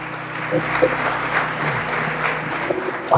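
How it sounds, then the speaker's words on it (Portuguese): A church congregation applauds steadily, a dense wash of many hands clapping at once, sustained and fairly loud throughout. "Vamos aplaudir ao Senhor Jesus"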